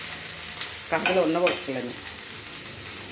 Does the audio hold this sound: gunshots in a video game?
no